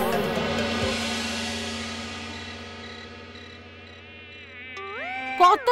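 Mosquitoes in an animated story whine with a high, sustained buzz that slowly fades, then rising tonal sweeps enter near the end, close and fairly loud.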